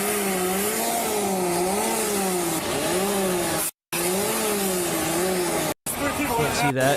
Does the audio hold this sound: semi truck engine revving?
yes